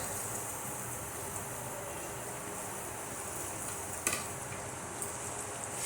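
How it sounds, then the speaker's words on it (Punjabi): Sliced onions and capsicum fry in a pan with besan for a paneer capsicum dish, a steady low sizzle with a faint stir and scrape. "ਤੇ ਹੁਣ ਅਸੀਂ ਇਹਦੇ ਵਿੱਚ ਪਾ ਦਵਾਂਗੇ ਜਿਹੜੇ ਅਸੀਂ ਪਿਆਜ਼ ਕੱਟੇ ਹੋਏ ਸੀ ਸ਼ਿਮਲਾ ਮਿਰਚ ਪਿਆਜ਼"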